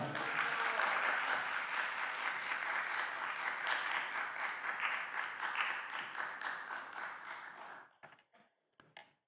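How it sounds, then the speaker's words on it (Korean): A church congregation applauds steadily for several seconds, a dense wash of clapping that fades out into a few scattered last claps. "목사님 나오실 때 큰 박수로 또 할렐루야 외치면서 모시겠습니다"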